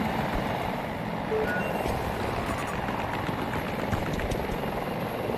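A helicopter flies in Battlefield 2042 gameplay, its steady rotor and engine roar loud and continuous throughout with no talk over it.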